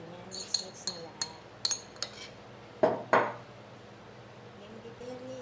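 Metal utensil clinks and scrapes against a bowl while Dubai chewy cookie ingredients are mixed together, a quick series of light taps followed by two louder clanks, with people chatting in the background.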